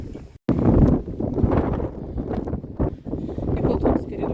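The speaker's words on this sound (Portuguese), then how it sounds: "agora voltou um pouco a ventania, mas nada que atrapalhe muito" Wind blows across a pirate-style schooner sailing off Florianópolis in gusty, rumbling buffets against the microphone, rising and falling in uneven surges with a brief dropout near the start.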